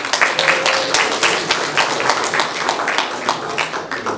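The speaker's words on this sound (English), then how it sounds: "So everyone, give a round of applause to Nick and Markus." An audience at a talk applauds steadily, a dense run of many hands clapping that carries on for several seconds before starting to thin.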